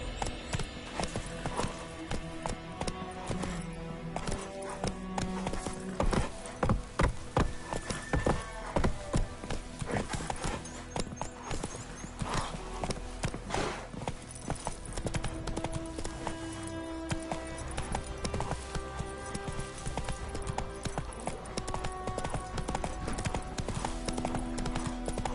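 A horse gallops in Witcher 3, its hooves beating a rapid, continuous clip-clop, with occasional snorts over a busy game soundscape that runs throughout.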